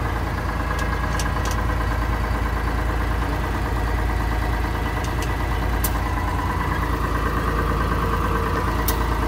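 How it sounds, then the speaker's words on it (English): A farm engine with a drive shaft idles steadily, a loud, even low rumble that runs throughout with no talking. "Got a button to push on to slow the engine down or drive shaft so I can put it in gear."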